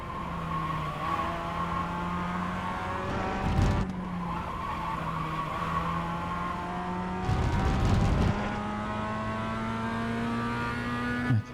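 A Mazda MX5 lapping Winton raceway, its engine droning steadily and close with rising and falling pitch through gear changes, broken by two bursts of tyre skid and squeal.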